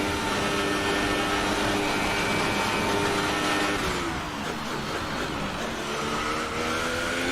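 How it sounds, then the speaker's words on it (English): Racing car engine in the F1 2018 game on the Baku city circuit, a loud continuous high-revving whine with shifting tones as the damaged engine strains, heard alone without talk. "I can hear bits of my engine rattling around"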